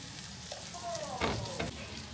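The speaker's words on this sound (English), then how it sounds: "And how long will you fry this for?" Red onion fries in a pan for Bicol Express, a steady close sizzle broken by a few scraping stirs, with no one talking.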